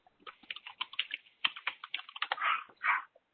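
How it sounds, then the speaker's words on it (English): Rapid, irregular computer keyboard clicks patter quietly in the background of a public online meeting, a burst of typing with a couple of softer rustling sounds near the end. "I hear a little typing in the background."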